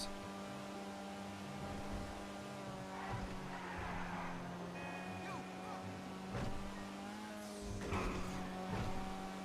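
Car engine in GTA 5 Online, the Vulcar Warrener HKR, running as a steady drone with rising tones and squealing tire bursts against game noise.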